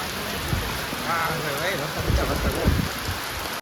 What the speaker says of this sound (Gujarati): વરસાદ હજી શરૂ છે